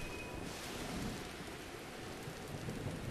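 Steady heavy rain with rolling thunder in the video game Zelda Breath of the Wild, a dense continuous wash of downpour with a low rumble underneath, no voices.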